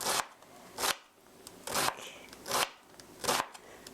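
A knife mincing green onion on a cutting board: a steady series of crisp chopping strokes, about five distinct bursts evenly spaced, close and clear with no talk.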